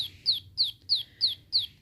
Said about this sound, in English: Rosie Robin sings when she is happy.